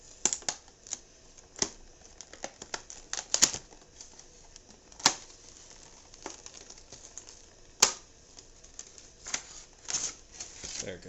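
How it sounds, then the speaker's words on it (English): Tape peeling off the packaging of a MEGO Star Trek Romulan Commander action figure gives quiet, irregular crackles and sharp ticking snaps that come in bursts over about eleven seconds, close to the listener. "Serena taped this up good."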